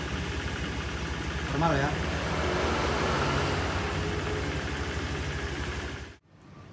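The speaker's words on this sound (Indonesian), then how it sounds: "kita pastikan sekali lagi motornya hidup atau enggak ya" A Honda Vario motor scooter, repaired after a total electrical failure caused by a short circuit, idles with a steady low engine drone close by while someone talks over it; the engine cuts out near the end.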